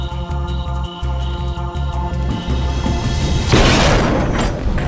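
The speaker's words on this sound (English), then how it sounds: "The charge has detonated with a loud explosion and a serious fireball." A loud, deep explosion from a detonating charge bursts out over a droning musical score, its rumble spreading and lingering to the end.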